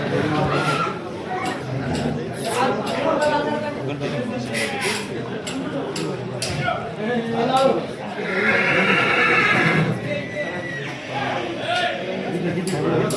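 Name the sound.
horse neighing at horse market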